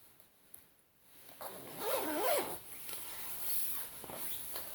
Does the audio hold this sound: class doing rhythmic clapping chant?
no